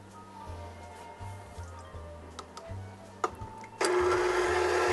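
An electric stand mixer with a whip attachment hums and whirs while beating egg whites, then jumps to a much louder, high-speed whine for the final second.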